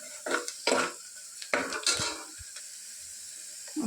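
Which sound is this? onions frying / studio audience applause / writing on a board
onions frying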